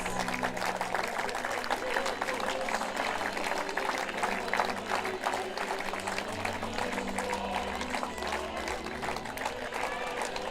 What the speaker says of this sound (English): Give a warm applause for France!